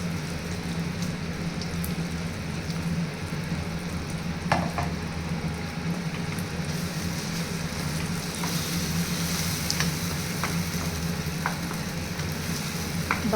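Tomato chutney with tempering stirred in a pan off the heat, with soft continuous scraping and gentle sizzling, plus a few faint taps of a spoon, close and steady, no voices.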